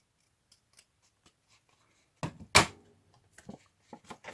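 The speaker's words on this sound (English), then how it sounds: "I do need to snip off a little bit from this." Scissors snip a piece off paper craft material in a quiet room, with a few faint taps at first, then two or three sharp close cuts and light handling noises afterward.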